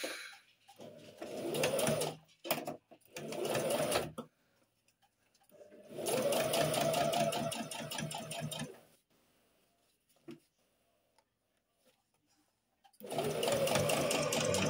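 Sewing machine stitching a new gear lever gaiter for a VW T5 2.5 TDI van conversion: loud rapid whirring runs of a few seconds each, separated by quiet pauses, close by.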